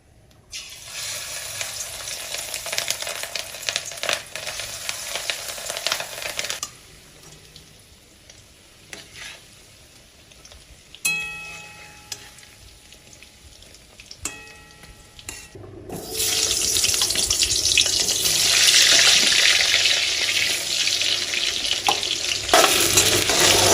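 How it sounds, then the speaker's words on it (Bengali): Fish roe fritters fry in hot mustard oil, giving a bubbling sizzle with stirring and clatter. It quiets in the middle, then a loud, steady sizzle returns as more batter hits the oil. "আমি সর্ষের তেল দিয়ে দিলাম বড়াটা ভাজার জন্য"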